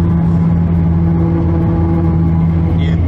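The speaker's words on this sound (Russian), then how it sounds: "и здесь есть такая штука, как звуковые дорожки." Car tires roll over a highway rumble strip in Portugal, giving a loud, steady droning hum with a constant low buzz inside the vehicle, unbroken for the whole stretch.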